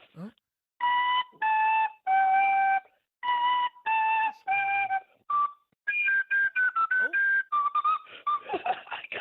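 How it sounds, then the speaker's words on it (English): A recorder played badly with one hand in a live sports radio studio: a string of wavering, shrill whistle-like notes in short bursts with gaps, some held, others wobbling and squeaking, loud and close. "I've got a recorder, so I can do it with one hand."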